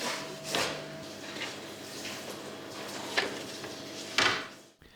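A stiff domestic oven door is opened and shut while gingerbread goes in to bake. Several muffled wooden knocks and thuds sound close by over a low kitchen hum, with a sharper final clunk near the end.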